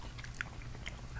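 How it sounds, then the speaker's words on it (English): Close, wet biting and chewing of grilled pork belly with crunchy bean sprouts at a Korean BBQ meal, a few crisp crunches over soft mouth sounds, no talking. "I just love the texture of the bean sprouts. Gives it like a nice crunch."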